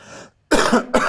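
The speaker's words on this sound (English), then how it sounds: "Sorry, I'm gonna cough." A person coughs hard during a podcast recording, with a short burst followed by two heavy, close coughs right into the microphone.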